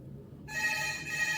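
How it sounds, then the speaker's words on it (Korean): A telephone in a five-star resort room in Phu Quoc starts ringing after a brief quiet moment, a steady electronic ring tone, fairly close and moderately loud, with no talk over it. "아이고, 전화가 오네."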